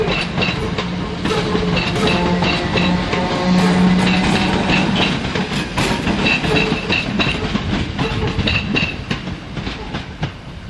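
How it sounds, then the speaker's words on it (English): Class 319 electric unit 319369 pulls out of Crewe station bound for Liverpool Lime Street. A steady rumble of wheels runs throughout, with rhythmic clickety-clack over rail joints and a faint tonal whine from the traction motors. No voices. "Next out, 319 377, is it? 69, sorry, off to Liverpool Line Street."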